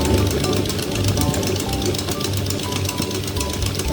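An electric mixer whirs through chocolate muffin batter in a home kitchen, a steady rattling buzz up close with faint talk beneath it.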